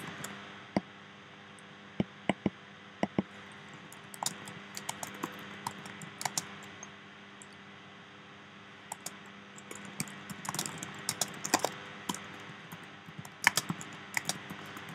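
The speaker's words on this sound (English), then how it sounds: "Kind of typing up some solutions here." Someone types on a computer keyboard in a quiet room: soft, irregular key clicks with occasional sharper taps and brief bursts, over a steady low background hum.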